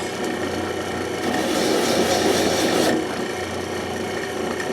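Steady rasping of a file or sandpaper worked back and forth across a wooden air rifle stock, close up, growing briefly louder midway, with no talking.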